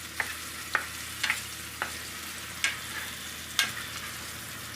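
Raw mango pieces frying in oil with turmeric, a steady soft sizzle broken by about seven sharp scraping clicks of a spoon stirring against the pan at uneven intervals, close and fairly quiet.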